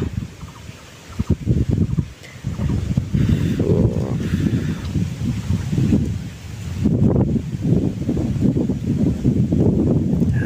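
Strong gusting wind roars and buffets the microphone in surges, with rustling in between gusts and no speech.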